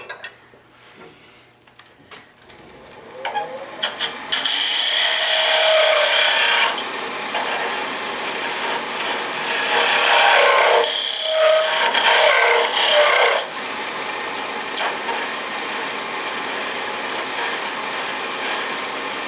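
A box tool cuts into wood spinning on a lathe while a box is turned, giving a loud, steady rasping scrape that surges and eases across several passes, with no talk.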